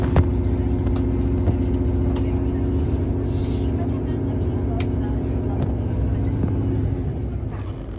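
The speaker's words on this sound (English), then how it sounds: "A 158 Sprinter beating an IET in a race." GWR class 158 Sprinter diesel train running, heard from inside the coach as a steady, loud, low engine hum with a constant rumble. Occasional faint clicks come through, and a voice talks over it.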